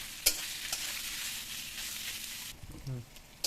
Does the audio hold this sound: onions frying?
yes